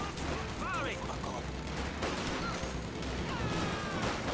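Battle noise from Company of Heroes 2, with dense gunfire from attacking troops crackling steadily throughout over a constant rumble, while faint in-game voices cut in briefly.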